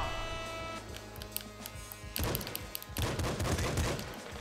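Weapons firing in the top-down shooter Nuclear Throne, a dense run of sharp repeated shots that grows louder and busier midway, over a steady game soundtrack.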